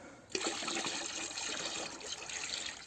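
Water poured steadily from one bucket into another while mixing Bordeaux mixture for an orchard, a continuous close splashing stream starting abruptly after a brief pause and running throughout.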